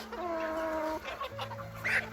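Hen clucking close by in a poultry yard, a run of short tonal clucks and calls with a sharper squawk near the end, heard alone without talk.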